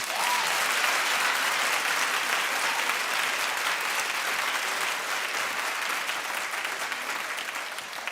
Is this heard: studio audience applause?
yes